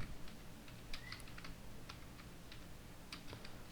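Keys clattering on a computer keyboard as HTML code is typed, an irregular burst of quiet, close clicks and taps against a hissy background, with no voice.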